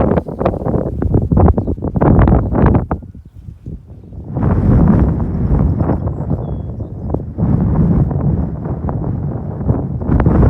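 Gusty wind buffets and roars across the microphone outdoors, dropping briefly to a lull before surging back strong and steady.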